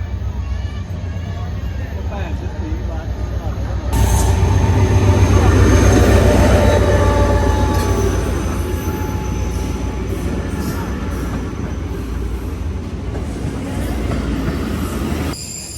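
The Tezgam Express rumbles loudly and steadily into a Pakistani station on the Okara to Lahore line, with squealing wheels and a low mechanical drone that swells and then eases as it pulls in.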